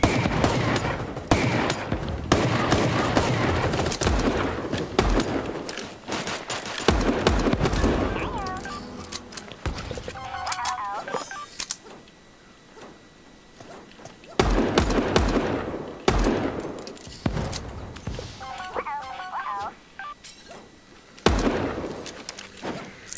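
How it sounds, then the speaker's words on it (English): Explosions and rapid gunfire burst in bursts in the video game Super Animal Royale, loud crackling volleys separated by quieter gaps, with a voice talking over parts. "there's explosions there"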